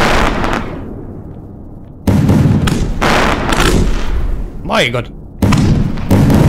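A mega-shot fireworks battery fires in the Pyroworks video game, with booming thuds and crackling bursts in loud blocks and a whistling rise in the middle, while people talk over it.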